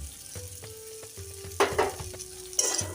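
Bitter gourd and fried poppy seeds being stirred in a hot pan, with a soft steady sizzle broken by scraping spoon strokes and a few louder clattering stirs toward the end.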